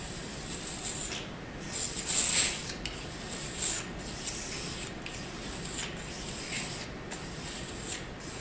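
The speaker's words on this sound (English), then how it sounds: "here I should start with this little razor and scrape off the irregularity on the surface of this edge" A small razor scrapes the edge of a scintillator block in soft, close, repeated rasping strokes, with a few louder scratchy bursts standing out against a quiet background and no one speaking.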